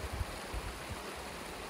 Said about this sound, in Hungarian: meg lehet próbálni ezt a patakot is, elég tisztának tűnik a vize.